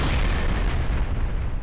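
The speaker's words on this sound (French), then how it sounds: "L'explosion est surpuissante" Deep, sustained roaring boom of a 9 kiloton atomic bomb detonation during a military test near a Centurion tank, loud and rumbling for the whole stretch with no voices over it.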